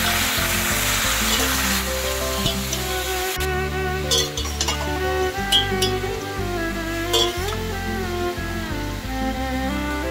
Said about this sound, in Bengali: এখন এই মোচাটা আমি এর মধ্যে ছেড়ে দেবো